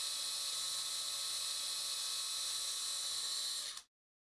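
A surgical drill with a 2.5mm bit bores through bone during malleolar fracture fixation of the tibia and fibula, a steady high-pitched whine held for several seconds before stopping abruptly.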